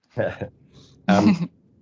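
Two short, throaty coughs from a speaker with a cold, close to the microphone, separated by a brief pause.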